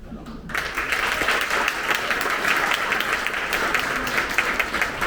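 Applause from a concert audience for a youth symphony orchestra performing at Viljandi Centrum, a steady dense wash of clapping that swells in after a brief quieter start and holds evenly throughout, with faint voices beneath.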